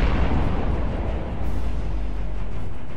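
Sustained weapon fire from the Vanguard ship in the space strategy game Sunrider, a loud rumbling blast with booming low end that dips briefly then swells again, continuous and without talking.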